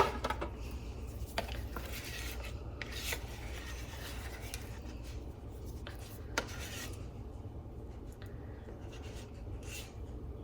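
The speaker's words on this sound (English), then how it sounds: "I am going to scrape it down." A spatula scrapes down sticky, moist bread dough inside the bowl of a Bosch Universal Plus mixer, giving soft rubbing and rasping strokes with a few sharp clicks, close and fairly quiet with no talk.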